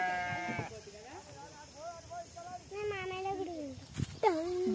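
Goats bleat near a well in the countryside, several wavering calls in quick succession from close by, with children's voices talking in between.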